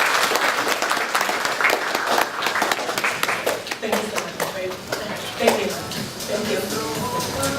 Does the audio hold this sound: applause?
yes